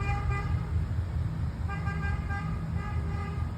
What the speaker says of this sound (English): I'm trying to figure out why the UPS man is honking like that